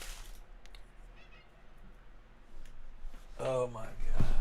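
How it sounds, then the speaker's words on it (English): A persistent house cat meows indoors, faint at first, then a louder nearby meow toward the end, with a person talking underneath. "I've got a very persistent cat."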